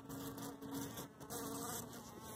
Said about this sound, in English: you want to see bee fight?